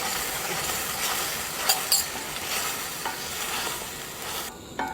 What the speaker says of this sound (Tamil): அதனால் போட்டு இதை நல்லா வதக்கிடலாம்.